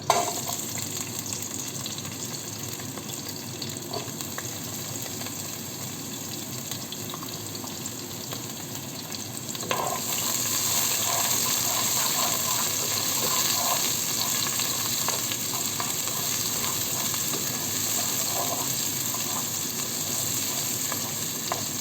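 Cooking oil sizzling and crackling steadily in a pan before cabbage and meat go in, a continuous close frying hiss that swells louder partway through, with no talking.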